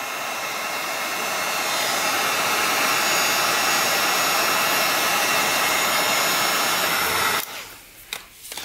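A heat gun or hair-dryer-style blower warms cold plastic weld outdoors, a loud continuous rushing whoosh that holds for several seconds and then shuts off, leaving quiet handling noises.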